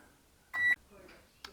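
A Kogan 28L stainless steel convection microwave oven sounds its buzzer with a single short, clear electronic beep, followed by a faint second chirp and soft background noise.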